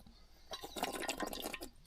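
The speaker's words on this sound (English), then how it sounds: "Have a quick drink of water." Someone takes a quick drink of water close by: about a second and a half of wet sipping and swallowing sounds after a brief quiet start, with no talking.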